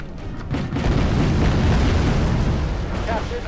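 Missile fire and explosions in Wargame AirLand Battle make a deep, rumbling boom that swells into a sustained roar and trails off, loud and dense, while someone speaks over it.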